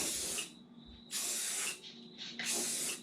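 Spray paint hisses onto a motorhome bonnet under repair in three loud, steady bursts of about half a second to a second each, separated by short quiet gaps.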